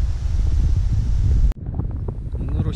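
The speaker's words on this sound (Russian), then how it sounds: "На Руси сегодня ну очень шквалистый ветер" Strong gusty wind buffets the microphone outdoors during a coin-hunting outing, a loud roaring rumble that cuts off abruptly partway through and leaves quieter background noise.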